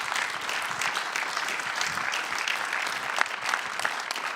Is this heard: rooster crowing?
no